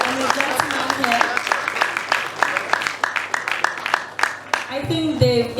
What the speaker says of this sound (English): Please give this young lady a round of applause.